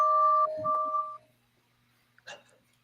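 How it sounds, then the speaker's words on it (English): A short electronic two-tone chime plays as someone joins an online video call, a clear steady tone with a brief pause mid-way, followed by a faint blip and a soft click. "Stop ringing the bell"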